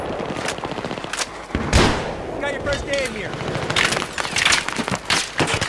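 Rapid bursts of gunfire with recoil from Battlefield 3 gameplay, sharp repeated shots with explosive cracks and other battle noise, while someone talks over the firing.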